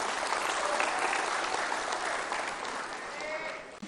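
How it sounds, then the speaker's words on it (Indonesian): Steady, dense applause from an audience at the 25th anniversary celebration of the PAN political party in Indonesia, holding strong throughout and easing slightly toward the end, with no speech over it. "Tepuk tangan tuh untuk Pak Erick Thohir"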